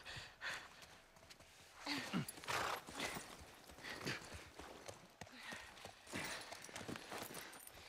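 Horse hooves clip-clopping in The Last of Us Part I video game, a run of uneven, fairly quiet hoofbeats over soft ground with a few snorts and breaths mixed in.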